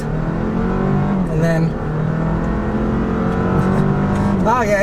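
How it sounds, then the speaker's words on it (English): A 2024 Toyota Land Cruiser with a 2.4-liter hybrid four-cylinder turbo engine accelerates hard, the engine note rising steadily and loud from inside the cabin, with someone speaking briefly over it. "we're going to start with acceleration here and test out this new iForceMAX powertrain"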